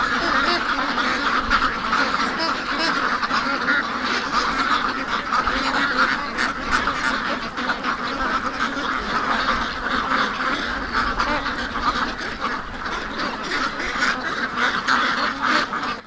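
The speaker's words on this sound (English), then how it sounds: "Seriously wound up ducks." A flock of agitated ducks quack loudly and continuously on a night marked by coyote activity, the dense, overlapping calls sounding close and never letting up for the whole stretch.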